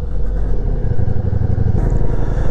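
Ducati Diavel V4 motorcycle engine while riding, a loud, continuous low rumble with a slight shift in pitch partway through and no voices.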